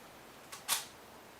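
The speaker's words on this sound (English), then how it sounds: "Then we'll release the shutter." A single-lens reflex camera with its mirror already locked up releases its shutter: a faint, soft tick followed a moment later by a sharper, louder click, close by in an otherwise quiet room.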